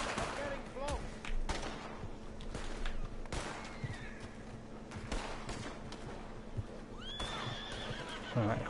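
A horse in a video game whinnies and neighs in panic several times, with hoofbeats, bursts of gunfire and someone talking over the commotion.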